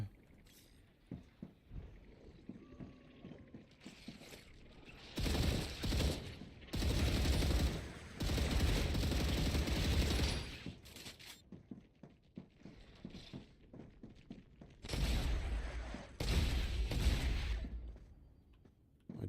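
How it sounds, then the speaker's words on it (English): Shotgun fire in the video game Star Rupture, several loud booming blasts and bursts separated by quieter stretches, close and forceful. "I do like me the shotgun"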